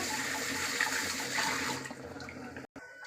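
Water runs steadily from a tap as food is rinsed in a kitchen during curry preparation, a soft continuous splashing stream that briefly stops near the end.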